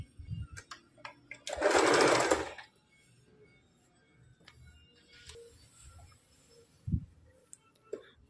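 A sewing machine stitches a folded hook strip along the lining side of a princess-cut blouse with short umbrella sleeves. It runs in one steady burst of about a second, with light clicks before and after in an otherwise quiet room.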